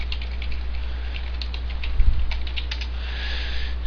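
Steady, fast typing on a computer keyboard, close up and moderately loud, with a hum underneath and a brief thump partway through.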